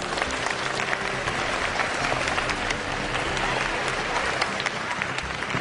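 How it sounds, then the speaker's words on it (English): Students at a school board meeting give themselves a round of applause, a dense, sustained wash of many hands clapping at steady loudness throughout, with a crowd murmuring underneath. "Now we're going to ask our students to give themselves a round of applause"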